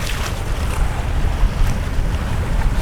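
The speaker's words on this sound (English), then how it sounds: "Typical choppy waves of lake and gusting wind." Wind buffets the microphone in gusts over the churning slap of choppy Finnish lake water against a sailboat, loud and close throughout.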